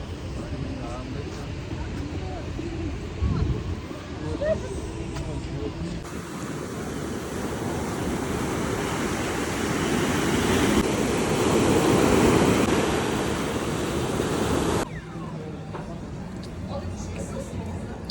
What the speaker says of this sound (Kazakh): Теңізде толқын ұрып жатыр.